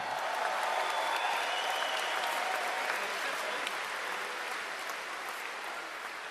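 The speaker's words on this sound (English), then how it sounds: "Let's give them a round of applause as well." A large crowd at a workers' rally in Oshawa breaks into sustained applause, dense and steady from start to finish, slowly easing toward the end.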